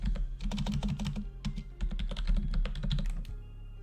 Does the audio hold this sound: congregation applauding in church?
no